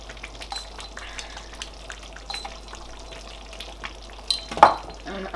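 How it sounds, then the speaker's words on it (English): Crayfish going into a pot of Nigerian egusi soup and being stirred, a soft, low scraping and wet stirring sound with small clinks, rising to one louder knock near the end. "So maybe first of all add my crayfish in there."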